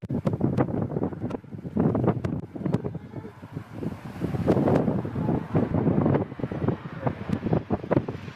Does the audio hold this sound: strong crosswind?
yes